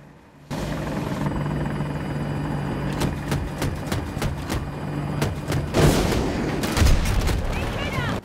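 In a video game, a TOW missile strikes an attack helicopter with booming impacts and bursts of gunfire over a constant rotor drone, with loud crackling explosions near the end.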